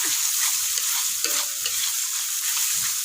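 Kaffir lime leaves frying in hot oil with spice paste, a bright, steady sizzle running throughout, close and loud, with occasional soft stirring scrapes.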